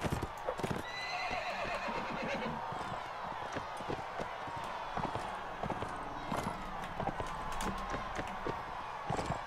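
Horses in the video game Mount & Blade: Warband trot with rapid clip-clopping hooves and give loud whinnies amid battle noise, while a player talks over the game sounds.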